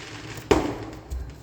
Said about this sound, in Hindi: मेरे पीछे से पटाखों की आवाज़ आ रही है